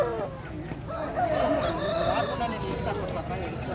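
Aseel roosters crow at a busy rooster market near Bangalore, a drawn-out crow rising over steady crowd chatter and background clucking, moderately close.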